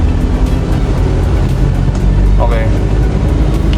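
Manual car engine revving steadily as the driver eases off the clutch in second gear and gradually adds throttle, a loud continuous drone with brief talk over it.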